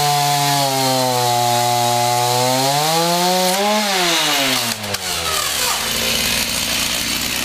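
A chainsaw runs in a backyard, its engine droning loud and close, pitch sweeping up and down as it revs before dropping into a rough, rattling cut.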